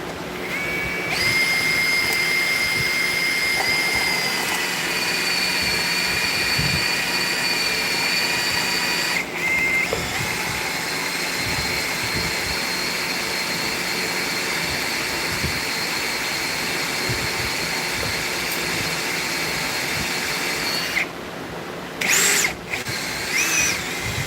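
A power drill on its high setting whines continuously at a steady pitch while working on a deck wheel, with brief interruptions and revving changes near the end, loud and close.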